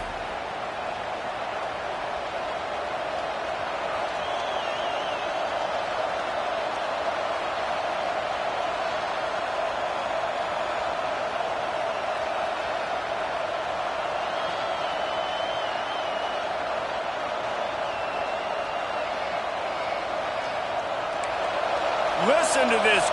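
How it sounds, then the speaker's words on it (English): Stadium crowd at an American football game roaring to support its defense, a dense sustained wall of cheering that swells near the end, heard from a distance with a broadcast commentator talking over it. "Listen to this crowd just shaking the girders of this place, trying to help their defense."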